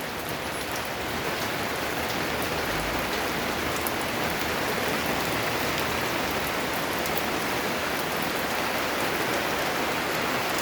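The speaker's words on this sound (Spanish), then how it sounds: "Se vino la lluvia, muchachos." Heavy rain falls steadily outdoors, a dense, constant hiss and patter with no break throughout.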